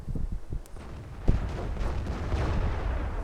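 Tank cannon fire in the online tank game World of Tanks, including a T-110E4 and a Panther: a sharp, loud boom about a second in, with rumbling battle noise and further distant shots behind it.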